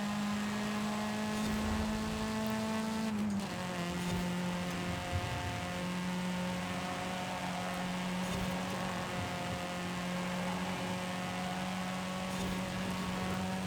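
A front-wheel-drive car in Forza Horizon 5 drones along with a steady engine tone that holds at a constant pitch, dipping slightly once early on, then continuing evenly with no talk.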